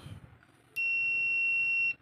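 A SAMWA YX-360TRE-L-B analog multitester's continuity buzzer sounds a steady electronic tone continuously for over a second, loud and close, after a quiet moment of low background noise.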